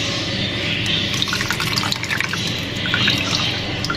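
Wet chopped coriander squeezed by hand into a shami kabab mix of chicken and dal, a steady close trickle and drip of water with small squelches running throughout.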